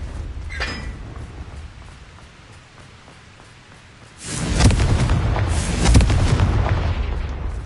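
A Confringo blast spell in the Hogwarts Legacy video game erupts into a loud, sustained booming explosion with crackling debris, following a quieter rumbling lead-in.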